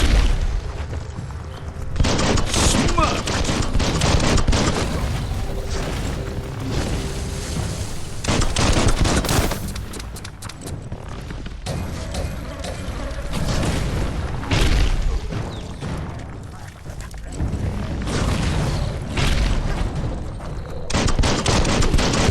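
Gunfire in the Biomutant video game rattles in dense, continuous bursts and booms for over twenty seconds, loud and close, with barely a pause between volleys.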